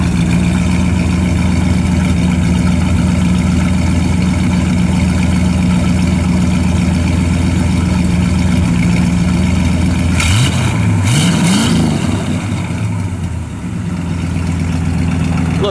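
A 1955 Chevrolet Bel Air engine idles through a dual exhaust with chrome tips, a deep, steady rumble, then briefly revs up and settles back down, close and loud.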